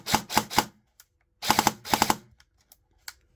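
An SRC M4 airsoft rifle fitted with a Bolt high torque motor fires two quick bursts of sharp, snappy shots, the second longer than the first, followed by a few faint clicks in near silence.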